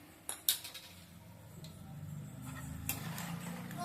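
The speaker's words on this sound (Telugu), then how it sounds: "మళ్ళీ ఇక్కడ ఇటువైపు స్టవ్ వెలిగించుకొని" A gas stove being lit in a home kitchen while cooking Andhra goru meetilu, a few sharp igniter clicks early on, then a soft steady low rush as the burner catches, with faint utensil clinks nearby.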